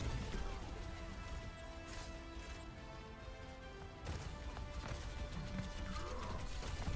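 Horse hooves clip-clop in the video game Overwatch 2, a steady run of hoofbeats buried in a dense, loud wash of game sound with crashes and scattered bursts.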